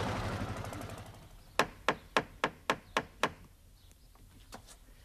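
Seven sharp, evenly spaced knocks strike a wooden door, close and distinct, after a brief lead-in of other noise, followed by a couple of fainter taps.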